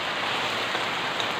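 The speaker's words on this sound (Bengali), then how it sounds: "শব্দ শুনে বুঝতেই পারছেন বাইরে বৃষ্টিটা হচ্ছে।" Heavy rain falls outside during a rainy day, a dense, even hiss of drops pattering on surfaces, steady and unbroken, with no voices.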